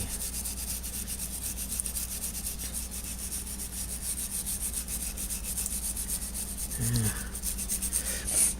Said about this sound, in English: See if you can scrape just a little off of here.